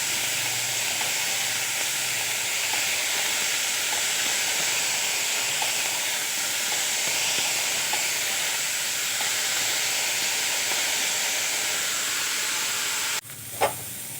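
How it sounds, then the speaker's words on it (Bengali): Eggplant fries steadily in hot oil with turmeric and salt, a dense, even sizzle and hiss lasting throughout, close and fairly loud, cut off by a brief clatter near the end. "হলুদ, লবণ, একসাথে মিশিয়ে বেগুনটা আমি খুব ভালো করে ভেজে নেব"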